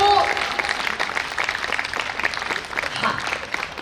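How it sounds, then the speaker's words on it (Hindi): An audience at a memorial lecture gives Bhanwari steady, dense applause, many hands clapping close together at an even level throughout. "जोरदार ताली से हम भवरी का"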